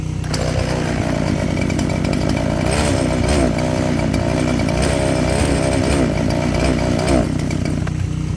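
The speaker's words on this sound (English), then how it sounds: "It's a very cheap chainsaw" A cheap chainsaw runs loud and close, its engine droning steadily with a few revving surges, continuous for the whole stretch.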